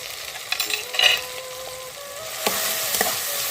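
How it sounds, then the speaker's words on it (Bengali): Salt, turmeric and chili powder stirred into hot oil for a Bengali hilsa teljhal, giving a steady close sizzle with a few scraping stir strokes across the pan. "দিয়ে আমি ভালো করে কষে নেব।"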